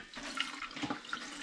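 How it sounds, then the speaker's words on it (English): Hops mashed with a potato masher, squeezing water down into a pan below during home brewing of a Vimto and hops cider; soft close splashing and trickling with small wet squelches, steady and fairly quiet. "using the potato masher, I'm just going to mash the hops to squeeze the water out of them into the pan below"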